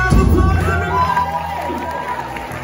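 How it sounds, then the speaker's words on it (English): A crowd at a Christian worship gathering in London cheers and whoops loudly after a song, with excited voices and some scattered clapping fading slightly over a few seconds. "Give yourself a round of applause, everybody."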